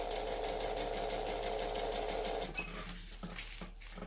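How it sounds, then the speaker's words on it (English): A sewing machine top stitching along a seam runs in a fast, steady whir for about two and a half seconds, then stops, leaving quieter handling sounds; close and alone, with no talk. "I'm going to top stitch just each side of this seam, and that's going to hold it down super duper flat for me"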